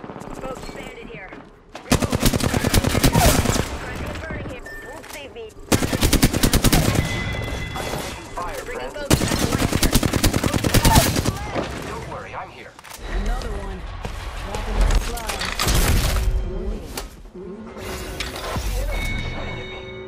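Gunfire in the video game Apex Legends comes in loud bursts of rapid automatic fire separated by short pauses, with voices talking between the volleys.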